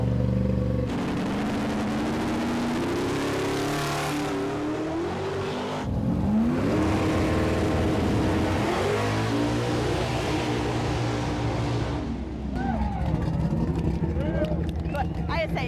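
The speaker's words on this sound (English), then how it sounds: "they're starting the engines up one at a time to see who's the loudest" Loud car engines rev and roar one after another, with bursts of throttle and sustained high revving; no talking stands out.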